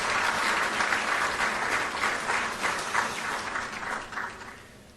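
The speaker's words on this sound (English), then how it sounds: "Another round of applause, please." A crowd at a Chief Justice swearing-in ceremony breaks into a round of applause, dense and sustained clapping that slowly thins toward the end.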